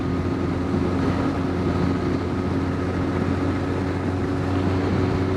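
Motorcycle ride recorded with a GoPro Hero8 and a lavalier mic, a steady droning engine hum blended with constant wind rush, loud and unbroken throughout with no talk.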